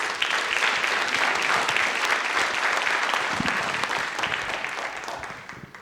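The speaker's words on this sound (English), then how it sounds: "Please give him a warm round of applause." An audience at a second-birthday celebration for a Center for Black Literature & Culture applauds warmly, a dense, steady clapping that holds for several seconds before tapering off at the end.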